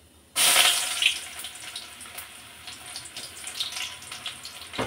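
Chopped onion hits hot oil in a pan with a sudden loud hiss, settling into a steady crackling sizzle that carries on alone.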